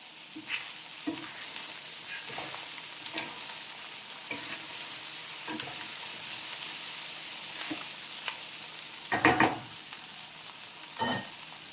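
Sliced tofu frying in a pan, a steady sizzle broken by scraping stirs and a few louder clatters of the utensil against the pan.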